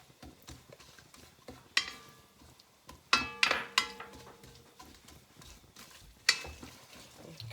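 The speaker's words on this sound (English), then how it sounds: "Okay, melting the ogbono." Ground ogbono is stirred into hot oil in a pot, with soft sizzling under scattered scrapes and clinks of a spoon against the pan, several sharper knocks standing out.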